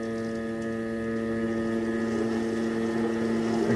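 A small motor on a homemade spider broom runs steadily after welding work, a loud continuous droning hum with strong tonal harmonics, alone and slightly rising in level toward the end.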